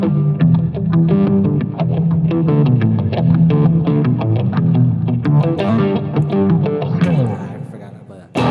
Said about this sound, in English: Now this is with an octaver that adds a bass